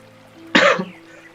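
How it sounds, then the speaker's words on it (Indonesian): A single harsh cough from a person recovering from COVID bursts out over a quiet background hum, lasting about half a second before fading back to near silence. "jadi masih sering batuk-batuk karena masih mengeluarkan dahak-dahaknya"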